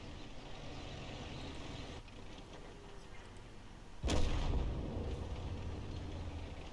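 Tank cannon fire in the World of Tanks video game, with a loud boom just past the midpoint that rings out into a decaying rumble over a constant background of engine and battle noise.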